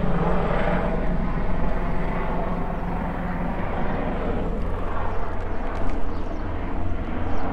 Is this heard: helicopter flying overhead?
yes